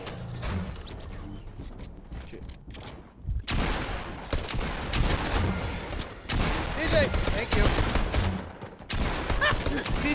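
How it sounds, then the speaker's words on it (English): Rapid shotgun fire and other gunshots in the battle-royale game Fortnite, bursts of close, loud blasts and mechanical clatter running through most of the stretch, with players talking over the action. "Damn it! Shotgun!"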